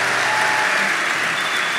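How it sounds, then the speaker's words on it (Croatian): A stand-up comedy audience bursts into applause for Filip, a spectator at the show. Dense, even clapping from many hands fills the entire brief moment. "Dajte aplauz za Fiću, molim vas, pa dajte."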